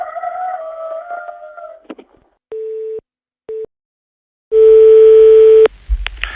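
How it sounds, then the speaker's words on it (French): A rooster crowing heard over a telephone line on a live radio prank call to a poultry slaughterhouse, a thin wavering crow, then two short tones and a long loud busy-signal beep followed by a click. "Et le coq, là, si tu m'entends, t'es en direct sur la radio."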